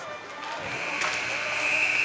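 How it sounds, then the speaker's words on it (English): A hockey arena horn sounds to end the second period of a junior hockey game, a sustained buzz that swells in over crowd noise and holds steady to the end. "As the buzzer goes, ending the second period of play."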